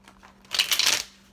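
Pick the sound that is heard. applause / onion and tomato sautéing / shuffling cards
shuffling cards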